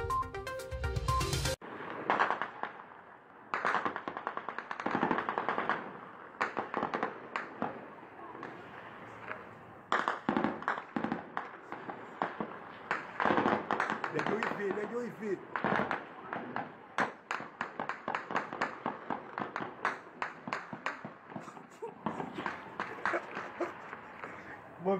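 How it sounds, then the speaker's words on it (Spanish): Sharp cracking gunshots go off repeatedly and irregularly in Haiti, sounding somewhat distant, some in quick bursts, with no clear talking over them. "Escuchemos los disparos que se producen en el lugar"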